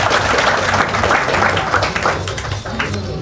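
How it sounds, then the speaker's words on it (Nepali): Studio audience applause, a steady dense wash of clapping from many hands that holds even throughout, fairly loud and close. "अगाडि लैजाने अनुमति दिनुहुन्छ भने तालीको सङ्केतको अपेक्षा गर्दछु"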